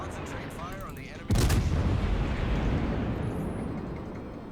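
Warship turret guns fire a single booming salvo in the World of Warships naval game; the heavy blast hits suddenly and then fades through a long rumbling decay over faint background sounds.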